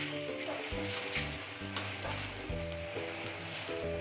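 Masala for cheesy fish balls sizzling and being stirred in a pan, a steady frying hiss with scraping stir strokes, while a low rhythmic musical bed plays underneath.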